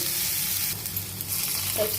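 Long-sliced onions fry in a pan with a steady, close sizzle and crackle, and a light stir scrapes briefly partway through.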